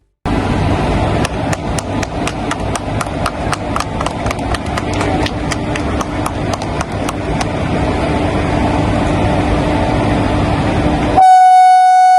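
A Madanapalle-Guntur passenger train rolls past, its wheels clacking in a steady rapid rhythm over rail joints for about eleven seconds, loud and close, before a sustained horn blast sounds at the end.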